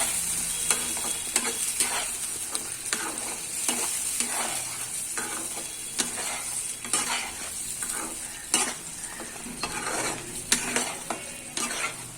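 Close, gentle sizzling of mustard seeds frying in a pan, punctuated by repeated scrapes and taps of a spoon stirring against the metal, irregular in rhythm.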